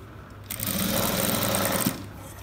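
A sewing machine runs steadily at close range, stitching a box pleat frock in one continuous, loud, buzzing run of about a second and a half that ends in a short thump.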